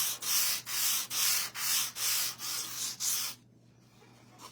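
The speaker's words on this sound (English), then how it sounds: "I like my stuff sanded just because I like it to look worn" Someone lightly sands a painted item by hand, making eight steady rasping back-and-forth strokes close by, then the rubbing stops and it goes quiet.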